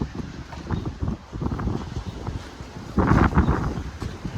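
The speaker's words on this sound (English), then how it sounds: "Sorry about the wind. It's another windy day out in the Midwest." Gusty wind buffets the microphone in rumbling low bursts, steady throughout and growing heavier near the end, outdoors at a Midwest farm auction.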